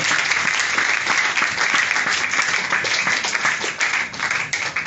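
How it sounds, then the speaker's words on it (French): A church congregation claps and cheers loudly and continuously, a dense wash of applause filling the room for the whole stretch with no pauses. "Si tu crois cela, acclame plus fort pour la gloire du Seigneur."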